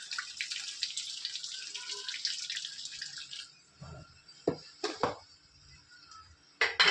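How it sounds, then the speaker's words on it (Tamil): Soaked basmati rice tips into a pot of boiling water for chicken dum biryani, giving a quiet bubbling hiss followed by several sharp splashes and clinks close by. "இப்போ இதில் நம்ம அரிசி சேர்த்துக்கலாம்"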